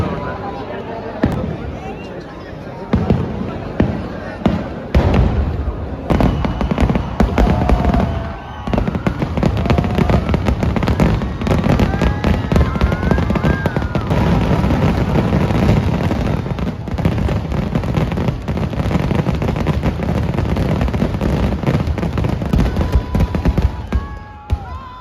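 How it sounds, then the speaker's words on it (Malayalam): Fireworks display at the Thrissur festival in Kerala, heard from a distance: a long, dense run of crackling bursts and booms that continues almost without pause, with a crowd murmuring and people talking nearby. "രണ്ടാമത്തെ വെടിക്കെട്ട് കാണാൻ നിൽക്കണില്ല കേട്ടോ"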